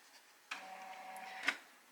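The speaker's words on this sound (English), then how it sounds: "Oh, that's my printer." A printer starts up with a sudden mechanical whir and faint hum, ending in a short clack, quiet and close by.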